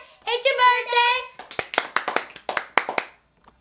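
An audience claps for Henry Hudson at a birthday celebration: a sharp, uneven run of nearby claps follows a sustained sung or cheered vocal phrase, with voices chanting over the clapping.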